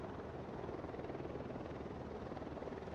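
A helicopter in the video game Ghost Recon Wildlands drones steadily with a low rotor thump, fairly faint and continuous, with no voices over it.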